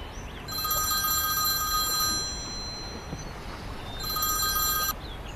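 A telephone rings in two clear bursts of bright electronic trilling with a short pause between them, with no talking, during a tense call that may come from kidnappers in a Chinese drama.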